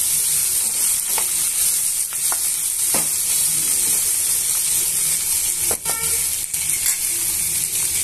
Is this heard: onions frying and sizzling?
yes